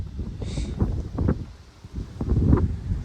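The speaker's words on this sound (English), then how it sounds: "Sorry about the wind" Gusts of wind buffet an outdoor microphone on a windy Melbourne evening, producing low, uneven rumbling bursts that rise and fall over a few seconds.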